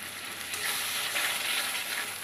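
Cumin seeds, bay leaf and whole garam masala hit reused frying oil in a kadai, giving a steady, close hiss of sizzling that swells slightly after the first half second and holds on without any talk.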